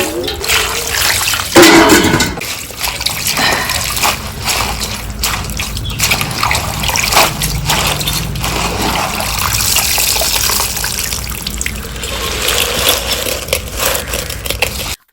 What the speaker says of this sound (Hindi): वही जो पत्ती-पत्ती निकाल ली हैं, वही एक पानी में धुल लेंगे अच्छे से।